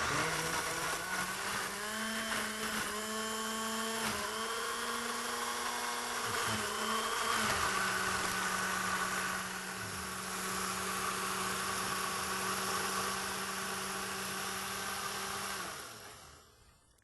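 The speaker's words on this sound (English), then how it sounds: "the blender is not quite up to par" A struggling blender whirs as it blends bananas for granola, a loud steady motor whine that shifts pitch a few times as the load changes, then winds down at the end; no talking.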